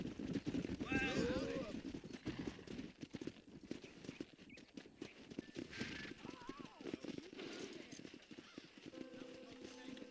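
Horse hooves clop in Red Dead Redemption, rapid galloping beats mixed with game sounds and a brief whinny, while someone talks over the action throughout.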